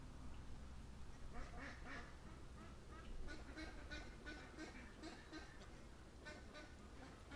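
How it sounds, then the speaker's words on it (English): Black ducks heading into bulrushes quack repeatedly in loose, overlapping bursts, moderately distant and faint over steady low outdoor noise. "got a bunch of black ducks that are actually going into the bulrushes"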